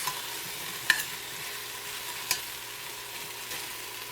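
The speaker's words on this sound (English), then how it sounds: "Get those cooked down, and I'm going to let them brown just a little bit." Vegetables browning in a hot pan give a soft, steady sizzle with no speech, broken by two faint utensil clicks.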